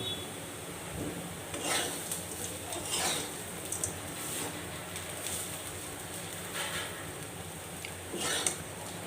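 Sliced bitter gourd frying in a pan while being stirred, a continuous soft sizzle broken by repeated scraping strokes of the spatula every second or two.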